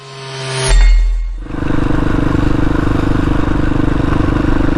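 A motorcycle engine rises to a loud rev, dips briefly, then settles into a steady, close droning hum as the bike rides along a road in South Dakota's Badlands near Wall.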